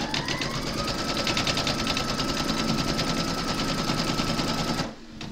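An embroidery machine stitches the first placement outline for batting on a large Mrs Claus appliqué, a steady rapid mechanical chatter running loud and close for nearly five seconds before stopping abruptly.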